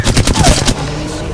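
A rapid burst of close automatic gunfire in an Apex Legends firefight, several quick loud shots in a row that stop abruptly and leave a short ringing tail.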